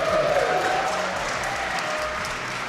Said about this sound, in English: Clapping for myself.